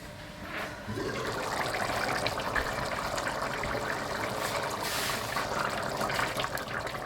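Mutton karahi with onions simmering in a pot after twenty minutes of cooking, giving a steady, close bubbling and liquid burble that runs unbroken throughout.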